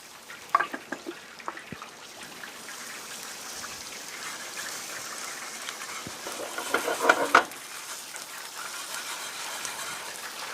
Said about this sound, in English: So that's why I just go ahead and cook the roux down, and I only add a little bit of flour to it.